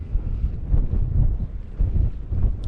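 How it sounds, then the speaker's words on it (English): Strong coastal wind buffeting the microphone while fishing for conger eel in Pembrokeshire, a loud, continuous low rumble rising and falling in gusts, with no voices. "I said that wind was due to drop off, but I'm pretty sure it's getting worse."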